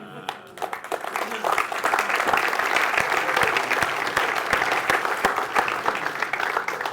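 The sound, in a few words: audience applause and cheering at launch event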